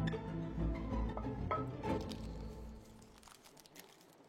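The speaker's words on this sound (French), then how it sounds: "Délicatement, je sors le papier." Parchment baking paper peeled away from a lukewarm homemade banana bread loaf, giving soft crinkling and rustling close by, with a few crisp crackles and a quieter tail.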